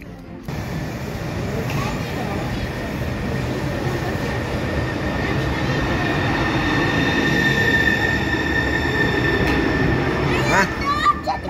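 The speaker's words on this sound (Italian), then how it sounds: "Arriva treno. Sì." Train pulling into a station near Ostuni, Italy, a loud continuous rumble of wheels and carriages with high steady squealing of brakes and wheels throughout, a voice faintly audible.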